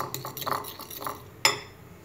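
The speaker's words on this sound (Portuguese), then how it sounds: "eu vou colocar um fiozinho de óleo, aí eu vou bater essa gema para pincelar os nossos pãezinhos" Egg yolk and a thread of oil whisked in a bowl with a fork or spoon, giving quick rhythmic clinking taps against the dish, then one sharper clink, close up with no talking.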